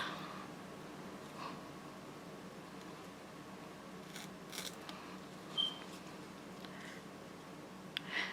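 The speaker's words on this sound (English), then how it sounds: "all I'm doing is peeling back the tape." Adhesive tape being peeled back from fabric during backpack sewing, heard as a few faint, brief rasping strips and rustles against a quiet room hush.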